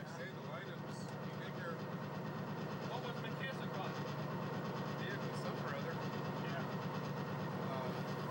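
Santa Fe hotshot intermodal freight train from Los Angeles to Chicago, four diesel locomotives hauling close to 5,000 tons over Cajon Pass, rumbles steadily and continuously from onboard, a low constant roar with rattling.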